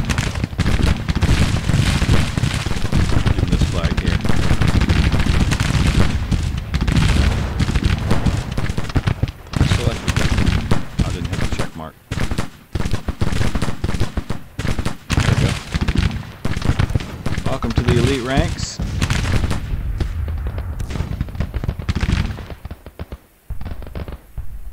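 Infantry volleys of musket fire crackle in the Civil War strategy game Grand Tactician, dense rolling gunfire with booms, loud and continuous, thinning briefly near the end.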